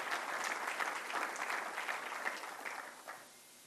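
A crowd applauds at a government sports-ministry event in Surat: dense, steady clapping from many hands that fades out just after three seconds.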